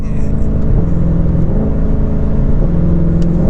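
A 2020 Ford Mustang Shelby GT500 pulls hard on a highway, its engine a loud continuous droning roar with rising tones from inside the cabin, steady and uninterrupted for the whole stretch.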